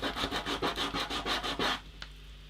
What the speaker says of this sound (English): If you fold sandpaper in half a few times, you get that kind of beveled piece, and you can sand off a little bit of colour.